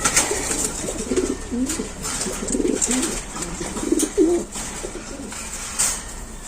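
Racing pigeons coo repeatedly in low, throaty bursts, close and clear over a background of steady noise and faint rustling.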